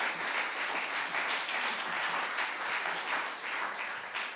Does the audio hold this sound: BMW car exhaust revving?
no